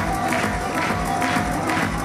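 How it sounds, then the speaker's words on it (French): A crowd claps steadily at a women's doubles beach tennis final at the Open des Brisants on Réunion, a dense, continuous patter of applause filling the short stretch with a faint steady tone beneath. "ça s'arrête jamais d'applaudir"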